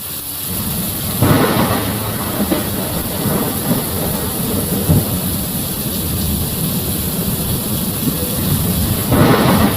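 Heavy rain pours steadily with deep rolling thunder rumbling through it, swelling louder near the start and again at the end, in a continuous dense wash with no voices.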